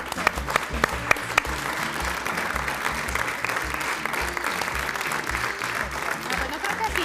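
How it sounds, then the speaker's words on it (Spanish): Studio audience applause on a Mexican television talk show, a steady broadband wash of clapping lasting the whole stretch at moderate loudness, with a rhythmic low thumping of music or beat underneath. "Un aplauso."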